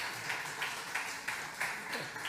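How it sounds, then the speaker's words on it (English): Soft, distant applause from a conference audience for the speakers of a panel session, steady clapping at low level that continues throughout. "Can we have a round of applause for our wonderful speakers?"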